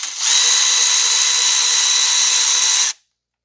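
A power tool whirs continuously at high speed, loud and close, for about three seconds while backing out the alternator pivot bolt on a 2012 Toyota Corolla 1.8, then stops abruptly into silence.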